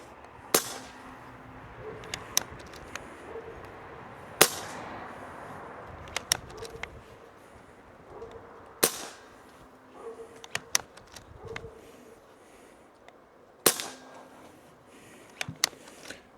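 An Air Venturi Alpha PCP air rifle fires several sharp, separate shots spread across the stretch. Between them come quieter clicks and handling noises from the toggle action.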